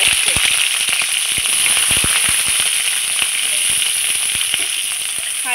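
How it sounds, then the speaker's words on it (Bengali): Taro stolons (kochur loti) dropped into hot, smoking oil set up a loud, dense crackle and spatter, with sharp pops scattered across a constant bright sizzle, close and continuous, with no talking. "এই গরম ধোয়া ওঠা তেলে এবারে আমি কচুর লতিগুলোকে ছেড়ে দেব"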